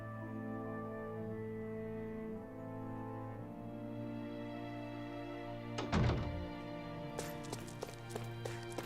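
Hammers bang in the video game Tales of Arise, a few sharp metallic strikes near the end over a steady droning musical background.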